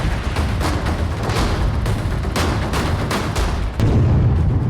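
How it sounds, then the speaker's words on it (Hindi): A single explosion from an IED set off by security forces demolishes a house during a search operation in Kulgam, Kashmir, a loud continuous roar with a fresh heavy blast near the end. "सुरक्षा बल पीछे हटे और एक ही धमाके में"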